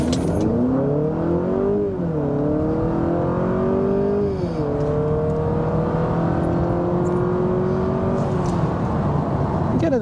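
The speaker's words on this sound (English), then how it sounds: "Let's see how this vehicle accelerates here." A 2023 Honda Accord Touring Hybrid accelerating hard toward highway speed, its engine drone rising steadily in pitch with a brief dip as revs settle, under constant road and wind noise.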